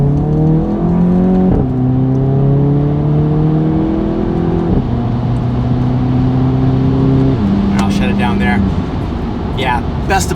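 A Volkswagen GTI with an MBRP 3-inch cat-back exhaust revs and drops through several manual downshifts, loud and close, pitch stepping up and down, with a person talking over it.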